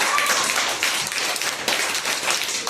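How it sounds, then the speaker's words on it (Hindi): Children clapping their hands together during a school fire-safety lesson, a fast, scattered patter of claps that stays steady and fairly close throughout. "चलो एक बार और ताली बजाओ।"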